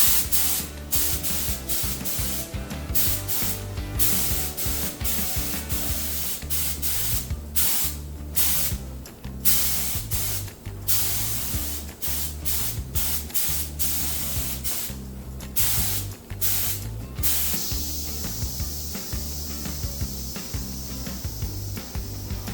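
A paint spray gun lays down a light first coat in repeated hissing bursts, loud and close, each pass cut off by short pauses, with a higher steady hiss at the end.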